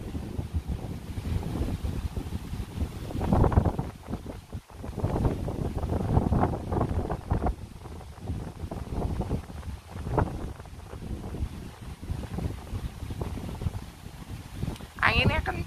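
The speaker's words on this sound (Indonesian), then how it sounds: "Anginnya kenceng." Strong wind buffets the microphone in heavy, rumbling gusts throughout a park, with a person talking underneath the blustery roar.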